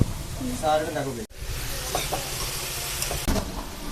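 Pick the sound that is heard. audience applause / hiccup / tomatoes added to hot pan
tomatoes added to hot pan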